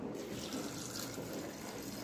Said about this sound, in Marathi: आता हा जो फ्लावर आहे आपल्याला पातेल्यामध्ये घेऊन याच्यामध्ये थोडंसं पाणी घालायचं आहे